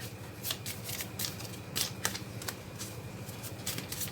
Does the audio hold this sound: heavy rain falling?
no